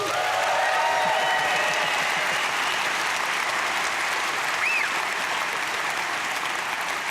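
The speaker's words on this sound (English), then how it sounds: "A cheer for right on the money, please." A live audience at a talk claps and cheers in a steady, dense wave of applause that holds evenly from start to finish.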